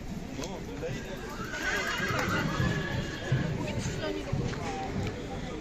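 Draft horses at a Polish market in Pajęczno neigh loudly among clip-clopping hooves and a busy crowd of people talking in the background.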